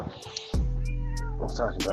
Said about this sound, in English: probably hear it meowing